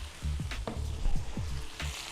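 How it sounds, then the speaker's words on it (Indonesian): Shallots frying in oil in a pan while a beef-trimmings sauce for steak is being made, a steady close sizzle with crackling pops and bursts of stirring. "Lalu kita masukkan bawang merah ke dalam ini tempat supaya dia infuse ya."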